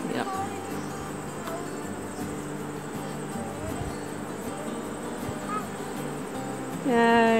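Honeybees hum around an opened hive during a sugar roll mite test, a continuous low buzzing drone close by, with faint handling noises and a brief louder tone near the end.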